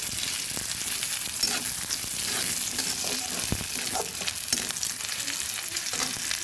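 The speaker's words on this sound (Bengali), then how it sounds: "পেঁয়াজটাকে ভালো করে ভেজে নিতে হবে" Onion frying in a pan for a Bengali bean and poppy-seed (posto) dish: a steady, loud, close sizzle runs without a break, with occasional stirring scrapes and no voices.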